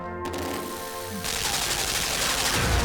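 Rapid gunfire in the video game Limbo, a burst of loud dense shots that swells abruptly into a sustained, noisy barrage with no voices over it.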